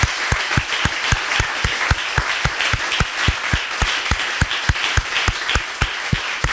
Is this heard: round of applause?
yes